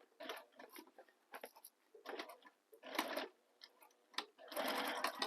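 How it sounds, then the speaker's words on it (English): A sewing machine back stitching the corner of a handmade bag, running in several short bursts of fast mechanical whirring separated by brief pauses, close and alone with no talking. "I'm back stitching in that corner just for some extra security"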